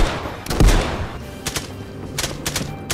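Gunfire in a Warzone match played in VR: a few sharp, loud shots at the start, then scattered bursts of fainter cracks spread through the rest.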